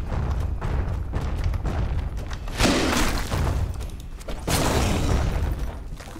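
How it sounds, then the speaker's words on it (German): Explosions boom in The Witcher 2: Assassins of Kings inside a secret cave, with loud broadband blasts and crashing debris arriving in two heavy bursts over a continuous rumbling background. "Ja, ich will nicht in derselben Explosion stehen wie du."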